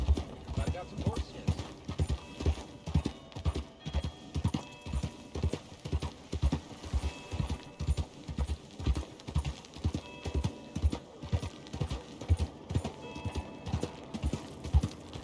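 Horse hooves clip-clop in a steady walking rhythm in the Western open-world game Red Dead Redemption 2, close and even, with faint game dialogue now and then over the hoofbeats.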